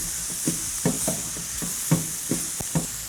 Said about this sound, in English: I would say about 30 seconds of sauteing for the garlic is enough.